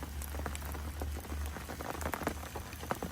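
Steady rain patters onto murky open water at a winter carp fishing spot, with dense close-up drips and splashes over a low background hum.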